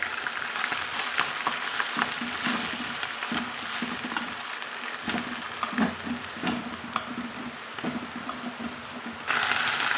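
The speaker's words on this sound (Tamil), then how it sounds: "நம்ம க்ளீன் பண்ணி வச்சுக்கிற பொன்னாங்கண்ணி இலையிலையும் சேர்த்துக்கலாங்க. சேர்த்து நல்லா வதக்கி எடுத்துக்கலாங்க." Ponnanganni leaves sautéing in oil in a pan, a steady loud sizzle with scraping and stirring clatter running throughout.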